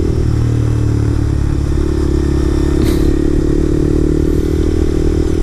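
A motorcycle engine droning loud and steady up close under wind rush as the rider holds the throttle open, continuous with no pauses and no voice.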